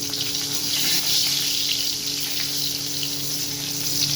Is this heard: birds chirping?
no